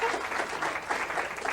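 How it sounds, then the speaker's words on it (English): An audience at a talk on brainwaves and the Mind Mirror gives a dense round of applause after a live demonstration, a continuous crowd clapping, loud and close, with a faint voice beneath. "I think your demonstration needs a round of applause"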